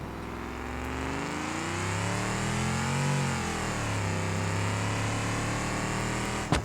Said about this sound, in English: That's a nice exhaust note.